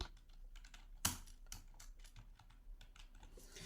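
Someone types on a computer keyboard while entering a name into a Microsoft Word document, with a run of quiet, close clicks of uneven rhythm and one sharper keystroke standing out.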